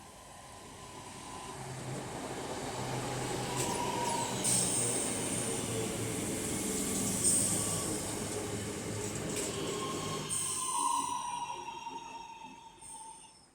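A Northern Class 323 electric multiple unit, 323230, pulls away from Gatley station on a delayed service to Crewe, a steady rumble and whine of motors and wheels building and holding close by, with higher squeals and a shift near the end.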